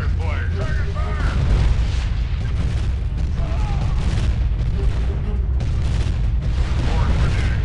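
Deep, rumbling cannon booms from the Art of War 3 strategy game roll under a constant dense battle din, heavy and continuous rather than separate sharp shots, while voices talk over them.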